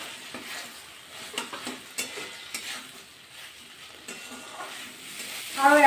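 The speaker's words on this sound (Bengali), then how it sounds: "এবার এর মধ্যে অ্যাড করে দেবো কাটি কচু আর সোয়াবিন।" Taro and soybean stir-fried in spice masala: close, rhythmic scrapes and knocks of a spatula against the pan over a soft sizzle, with a brief louder clatter at the end.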